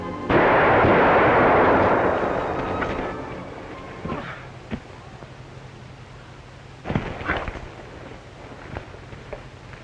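A single sharp gunshot in a radio drama booms loudly and fades away, followed by a few faint thumps and rustles.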